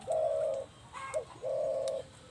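Spotted dove cooing nearby: two drawn-out coos bracketing a short higher note, soft and clear against a quiet background.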